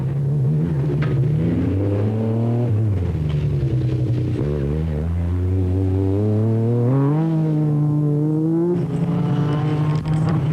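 A 1988 MG Metro 6R4 rally car races hard in the Esso Metro Super Challenge. Its loud, close engine roars steadily, rising and dropping in pitch through gear changes and sustaining a rough, buzzing rumble throughout.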